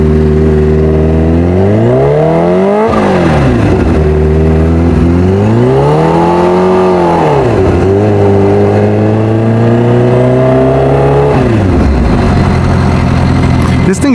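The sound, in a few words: Kawasaki Ninja H2R motorcycle engine revving loudly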